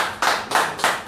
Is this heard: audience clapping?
yes